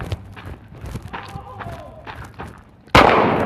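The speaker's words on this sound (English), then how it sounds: "shots fired" During a police bodycam encounter in Albuquerque, New Mexico, tense voices and movement build before a sudden loud gunshot blast near the end, followed by a sustained harsh burst of noise.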